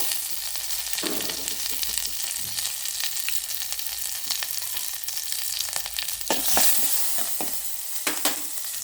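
Mustard seeds, dried red chilies, asafoetida and curry leaves crackle and sizzle in hot oil for a cucumber pachadi tempering, a steady loud frying hiss with stirring scrapes and a few sharp pops near the end.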